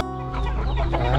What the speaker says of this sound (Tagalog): Sobrang dami ng manok